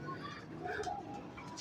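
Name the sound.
pigeon cooing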